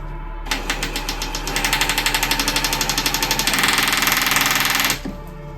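A loud power drill bores into a steel safe, whirring with a rapid mechanical rattle for about four seconds, starting and stopping abruptly, close by.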